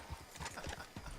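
Horse hooves clip-clop at a steady walking rhythm in a video game, quiet and brief, with no talking.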